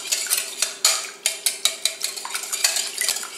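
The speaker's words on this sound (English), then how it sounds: "you want to whisk the eggs until they turn" A whisk beats eggs in a bowl in a 1960s-style home kitchen, giving quick, rhythmic clinks and scrapes close by, steady taps repeating several times a second with no talking.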